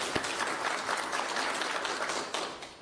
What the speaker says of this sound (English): So let's give her applause for what she said.